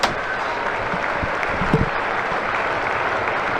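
Cricket crowd applause at a county match between Somerset and Surrey, a steady spread-out patter of clapping from the stands, moderate and continuous with a few low thuds.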